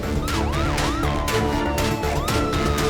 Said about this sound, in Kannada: ಅನಿಮಲ್ ಆಂಬ್ಯುಲೆನ್ಸ್ ಅವರು ಅವ್ರ ತಂಡದ ಜೊತೆಗೆ ಬೇಗ ಬಂದ್ರು